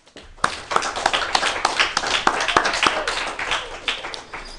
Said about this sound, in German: Ich glaube, das ist ein Beifall wert, ne?